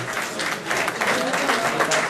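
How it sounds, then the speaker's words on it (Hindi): Applause from a crowd at a Paris concert event, a steady wash of many hands clapping, fairly loud and continuous throughout. "उनके लिए तालियां बजाएंगे।"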